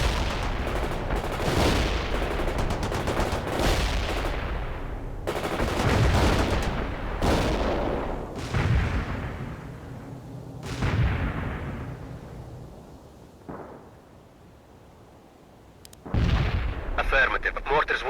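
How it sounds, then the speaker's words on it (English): Mortar and artillery fire in the World in Conflict strategy game, a series of heavy booming impacts and blasts at irregular intervals with rumbling decays, loud and close, ending in a sharp final burst. "Mortars will fire at the provided coordinates."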